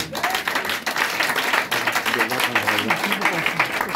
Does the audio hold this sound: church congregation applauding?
yes